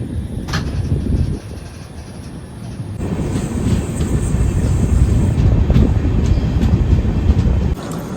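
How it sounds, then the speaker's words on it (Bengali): A Humsafar Express train moving slowly in light drizzle rumbles along steadily and loudly, a continuous low clatter with wind buffeting the microphone. "তার সঙ্গে আস্তে আস্তে ট্রেন যাচ্ছে"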